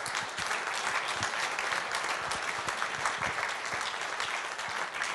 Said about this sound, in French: Je voudrais qu'on les applaudisse à nouveau.